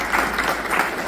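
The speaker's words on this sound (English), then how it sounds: "So a big round of applause." Brief, steady wash of audience applause at a solo art exhibition opening, moderately loud and continuous without distinct individual claps.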